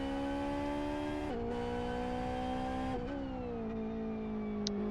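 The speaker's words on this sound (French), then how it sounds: "Est-ce que vous entendez bien les voitures aussi?" Racing cars in the GT300 racing game, an Aston in the pre-grid, running as a steady loud engine drone with harmonic whine, pitch dipping and rising around shifts near 1.3 and 3 seconds, without talk.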